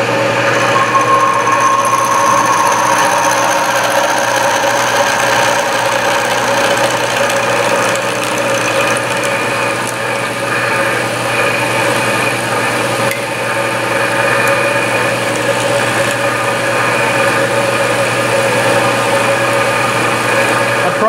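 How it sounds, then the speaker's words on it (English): A 3/8 inch four-flute high speed steel end mill cuts metal lubricated with heavy sulfur cutting oil, a loud steady machine hum and whine with tonal ringing running unbroken throughout, no voices. "30 thousandths seems to work pretty good with this 3/8 inch 4 flute high speed steel end mill."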